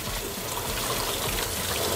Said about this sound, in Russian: И тут Лера пошла мыть руки.